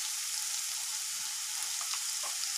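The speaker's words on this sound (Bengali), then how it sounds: "আমার এই পেঁয়াজটা টমেটোটা একটু ভাজা ভাজা হয়ে এসছে" Onion and tomato frying in a pan with salt and turmeric, a steady soft sizzle with occasional faint stirring clicks and no voices.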